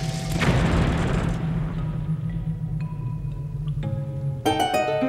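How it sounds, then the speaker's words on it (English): A bomb going off in The Legend of Zelda: Skyward Sword, one deep booming blast near the start that rumbles and fades, followed by faint game tones and a chiming jingle at the end. "we'll launch the beetle, pick up the bomb, and hang to the right"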